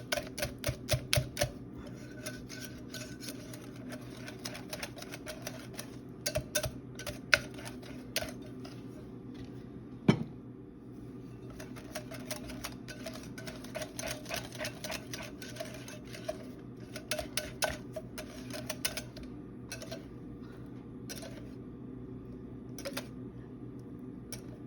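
Batter for a no-knead soft bread gets stirred in a bowl, making quiet, quick, irregular clicking and tapping that stops briefly now and then, with no voices.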